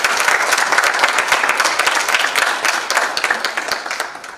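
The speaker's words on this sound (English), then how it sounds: "give Emlalatini a huge round of applause" Loud, dense audience applause at a school occasion honouring Emlalatini, many hands clapping steadily and close, tapering slightly toward the end.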